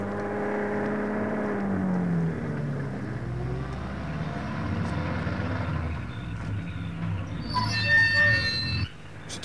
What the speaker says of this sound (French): C'est un camion. Oui, un routier.